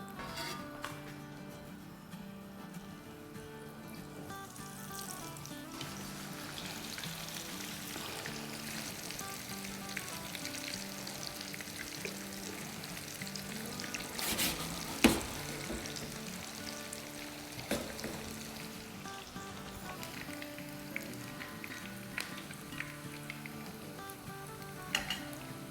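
Potato kebabs frying in a second batch of oil, a steady low crackling sizzle running throughout with occasional clinks of a utensil against the pan.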